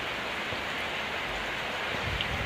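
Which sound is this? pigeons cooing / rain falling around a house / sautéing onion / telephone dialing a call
rain falling around a house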